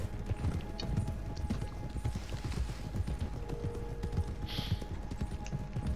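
In a video game, steady clip-clop of horse hooves trotting over a continuous ambient bed, with a brief faint whinny-like tone partway through.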